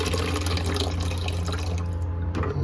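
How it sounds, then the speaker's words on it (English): Water draining out of an opened faucet on a water softener line, a steady, loud rushing and splashing flow that holds constant throughout with no voices. "Now we have a faucet here that we can help use to drain the water, so we'll go ahead and open this up."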